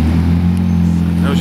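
A Porsche Cayman GTS sports car sits with a steady low engine hum throughout, under loud nearby talking.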